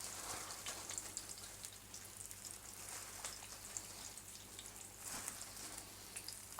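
Flour-dusted roadkill rabbit pieces fry in an uneven pan with a steady, faint, crackly sizzle that continues evenly, with no talking.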